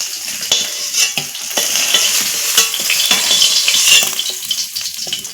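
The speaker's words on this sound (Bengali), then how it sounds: "এখন উল্টো পাল্টা করে ভেজে নিব" Snakehead fish fry in hot oil, sizzling loudly in a pan while a utensil scrapes and taps against it in irregular strokes, close up with no talking.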